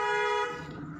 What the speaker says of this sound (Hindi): उसको हम लॉन्ग हॉर्न देंगे